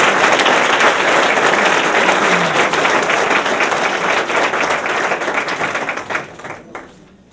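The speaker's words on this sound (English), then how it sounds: "So can we give them all a big round of applause?" A full round of applause from the audience at an 8th grade promotion ceremony honoring graduating students, steady and dense for several seconds before thinning out and fading at the end.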